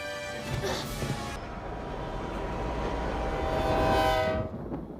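A train rumbles past with a long, sustained horn blast over the rolling noise of the cars, loud and close.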